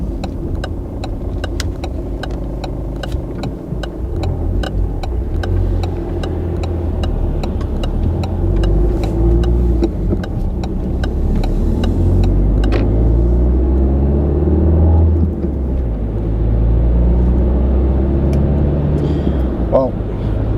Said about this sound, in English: we're on the road now, driving the Peugeot 308 diesel